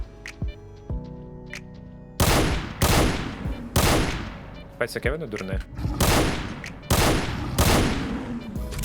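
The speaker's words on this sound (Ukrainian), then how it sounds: "Давай запалювальними постріляємо" Incendiary rounds fired in S.T.A.L.K.E.R. Lost Alpha, loud close bursts of gunfire in repeated volleys with short gaps between, while someone talks briefly early on.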